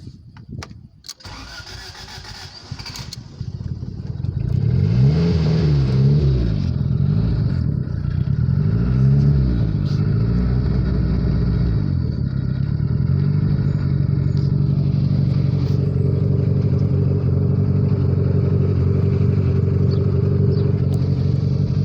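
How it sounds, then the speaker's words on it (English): A Fiat Palio R car engine cranks briefly after a couple of sharp clicks, catches and roars into life, then settles into a loud, steady idle that runs on alone for the rest of the clip. "So let's see if the car will actually crank."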